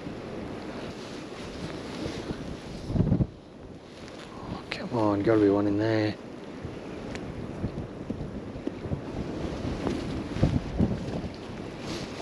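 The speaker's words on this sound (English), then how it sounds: "It's proper windy." Strong wind gusts across a dam in the Tasmanian highlands while trout fishing, roaring and buffeting the microphone throughout, with someone talking over it.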